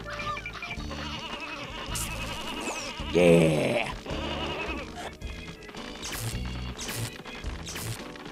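Sheep bleats from the video game Space Station Silicon Valley, a few short bleats over game music with a crash-like burst midway and a man's brief exclamation.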